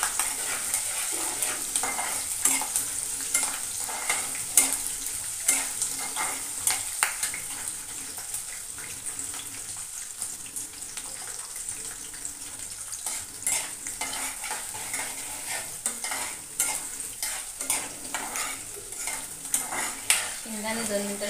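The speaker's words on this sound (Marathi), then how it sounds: "शेंगदाणे 2 मिनिटासाठी छान परतून घ्यायचे" Peanuts and green chillies fry in a pan with steady sizzling, and a utensil stirs and scrapes against the metal in frequent clattering strokes throughout.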